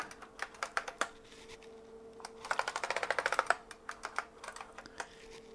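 Keys are pressed on an IBM PS/2 Model 85 keyboard during a diagnostic keyboard test, with scattered single clicks and then a quick run of rhythmic clacks, close and crisp over a faint machine hum.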